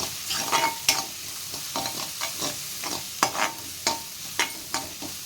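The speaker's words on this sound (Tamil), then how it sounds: "இஞ்சி பூண்டு பேஸ்ட்டு நல்லா வதக்கிக்கலாம், பச்சை வாசனை போகிற வரைக்கும்." Ginger garlic paste sautéing in a pan while being for Tamil-style butter chicken masala, with a steady sizzle broken by a quick series of sharp spoon scrapes and stirring clatters, close and distinct, with no talking.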